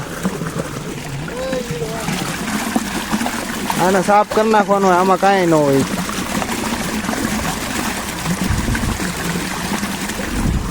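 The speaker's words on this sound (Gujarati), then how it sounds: "તમે જોઈજો અહીંથી પાણી વહી જશે" Continuous trickling and splashing of water flowing through a pipe runs throughout, with a person speaking over it in the middle.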